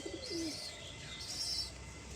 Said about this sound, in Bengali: সকালবেলা নিজের বাড়ি লফটে যে 4টে পায়রা উড়িয়েছিলাম 2 ঘন্টা হয়ে গেছে, এখনও উড়ছে